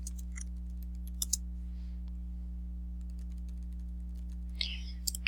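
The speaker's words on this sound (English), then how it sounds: "So first we're going to type in our search." Search words are typed on a computer keyboard, heard as a few faint, scattered key clicks over a steady low electrical hum.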